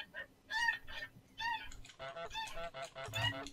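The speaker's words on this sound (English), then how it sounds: "I found this video that is 10 hours of goose sounds" Geese honk in a long recording of goose sounds: loud, nasal honks repeat in quick succession, some overlapping, with a steady low hum underneath.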